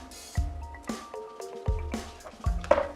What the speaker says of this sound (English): you want to combine the wet ingredients with the next dry ingredients